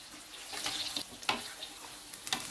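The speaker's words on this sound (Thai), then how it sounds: "เราก็ใส่มะเขือยาวของเราลงไปทอดเลยครับ" Oil sizzles and crackles steadily as eggplant deep-fries, with faint bubbling and a few sharper pops, close and fairly quiet.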